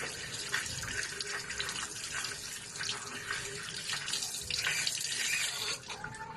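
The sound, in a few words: running tap water rinsing a wound clean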